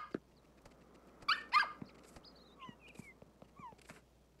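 A virtual puppy in Nintendogs + Cats gives a few short yips and whimpers scattered over soft tapping and light game sounds, fairly faint and with no talk.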